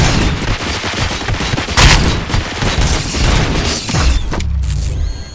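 Gunfire in a RoboCop: Rogue City cutscene, loud bursts of shots and booming impacts mixed with mechanical clanking, rising and falling across the scene before a sharp final blast.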